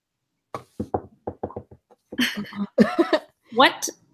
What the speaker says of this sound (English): a figure wearing a hoodie knocks quite suspiciously at his door